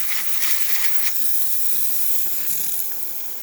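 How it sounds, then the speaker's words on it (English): A Breville Barista espresso machine, freshly descaled and serviced, releases a steady, strong hiss of steam from its wand, continuous and close, with slight sputtering early on and no voices. "as you can see, the nice steady steam, excellent pressure, working perfectly"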